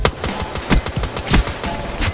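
Dense, rapid assault-rifle fire from Call of Duty Black Ops 3, an M14 or M16, rattles continuously with loud, evenly spaced shot transients and no talk.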